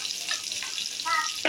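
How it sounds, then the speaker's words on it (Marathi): Green chilies with turmeric sauté in a pan for dahi mirchi, a brief steady hiss of frying close by, with faint stirring scrapes and a short voice-like sound near the end. "आता हे चांगलं मी परतून घेते"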